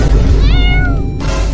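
A cartoon cat gives a single loud, close, rising-and-falling meow of about a second, with background noise before and after it.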